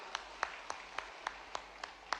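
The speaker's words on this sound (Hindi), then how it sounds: "तालियां बजाओ सभी के लिए" Faint rhythmic clapping at a chief minister's public rally in Chanderi: eight evenly spaced claps in unison, quiet and distant against a low background hum.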